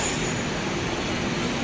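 Pune Metro Aqua line trains moving through an underground station, a loud continuous rumble and rush of wheels and air filling the whole moment, with no clear speech.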